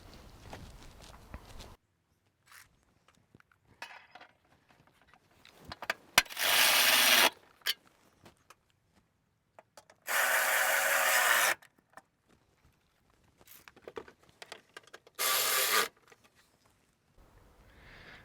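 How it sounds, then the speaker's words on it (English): Bolts are tightened on a dual battery tray in a Toyota Prado 2.8L 150 series. Three loud, sustained mechanical bursts stand out against near silence, with quieter clicks, taps and rubbing handling noises in between. "now that we've lined up all of our bolts that go into the existing Toyota holes, we can go ahead and do them up securely"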